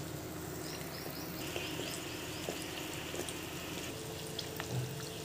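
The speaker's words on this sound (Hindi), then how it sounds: "अब हम इन्हें पलट देंगे और पलटते हुए धीमी आंच पर पकाएंगे।" Mung dal kachoris bubble and sizzle in hot oil as they are flipped over low heat, a steady dense hiss with faint clinks, no talking.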